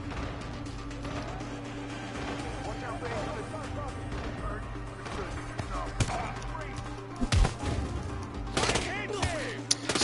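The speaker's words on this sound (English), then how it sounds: "They've heard loud gunfire" Video game gunfire in Hitman 2 crackles in scattered sharp bursts over a dense, noisy backdrop, with a few louder shots near the end.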